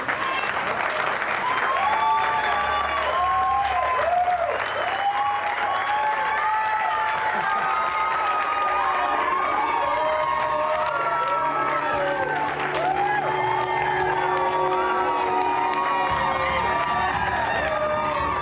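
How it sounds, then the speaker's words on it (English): A large crowd claps, cheers and whoops enthusiastically in a continuous loud roar, with shouting voices rising over the sustained applause throughout. "The fake, over-enthusiastic applause is disturbing to Ryan."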